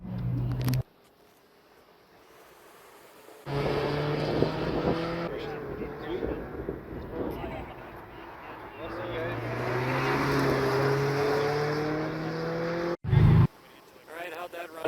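Toyota Camry on an autocross course, its engine droning steadily through slalom runs with rising and falling pitch, heard from inside the car, with wind noise and a voice speaking over part of it.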